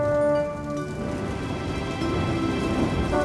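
Steady rain falling, a soft continuous patter with a faint hum beneath it, fairly quiet and without any voices.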